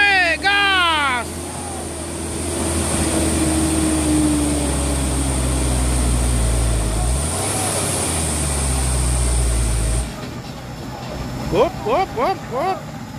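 A loaded Mitsubishi Canter SHDX Euro 4 truck carrying about 12 tons revs its engine hard while climbing, a loud, steady low roar that shifts pitch midway and drops off near the end, with people talking over it.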